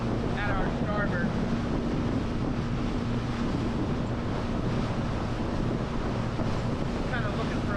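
Heavy wind roars steadily over a sailboat at sea, with constant buffeting against the microphone and waves washing underneath, loud and unbroken throughout.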